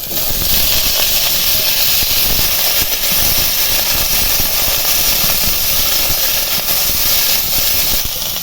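Eggplant and potato pieces tipped into hot oil after browned onion and chilli, giving a loud, dense, unbroken hiss of sizzling that holds steady and close throughout, with no voices.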